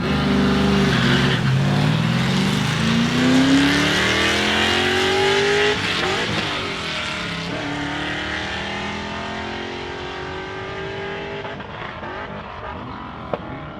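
A 2025 Ford Explorer ST launches down a drag strip, its engine climbing hard through the gears with a shift dip before fading as it pulls away, loud at first and tapering off.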